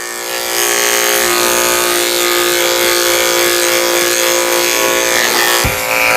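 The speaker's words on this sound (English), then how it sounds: "shaving the base of his tail with a 7 blade" Electric clippers fitted with a 7 blade buzz steadily and loudly while shaving the base of a Shih Tzu's tail, a continuous close whirring with slight changes as the blade moves through the coat.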